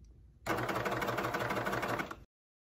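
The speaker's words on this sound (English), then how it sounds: "if you're reverse cover stitching it, just because you're constantly readjusting as it moves through" A cover stitch sewing machine runs in reverse over athletic leggings, a steady, close mechanical whir and rapid rattle lasting under two seconds before stopping abruptly into silence.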